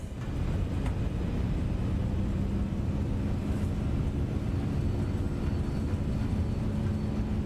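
Jet engines of an Inibuilds Airbus A340-300 spooling at takeoff thrust in MSFS 2024, a dense steady low roar with broadband rumble, constant and loud throughout with no talk.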